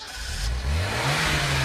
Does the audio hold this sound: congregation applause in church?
no